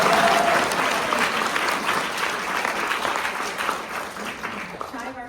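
A round of applause from the audience at a panel event in a New York City venue, loud at first and tapering gradually, with a voice briefly starting up at the close.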